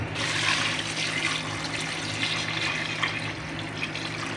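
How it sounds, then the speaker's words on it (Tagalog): Steady rush of water pouring into a cooking pot of chicken sotanghon, a continuous hissing splash without pauses or voices. "Pero lalagyan na po natin siya ng ating sabaw. Tubig. Tutubigan na po natin."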